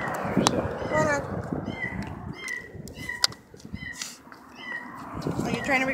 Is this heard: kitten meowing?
yes